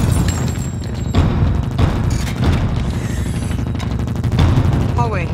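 Gunfire erupts in a film action scene from Ghost in the Shell, a dense fusillade of bursts and booms filling a hallway, loud and continuous with rapid crackling shots throughout.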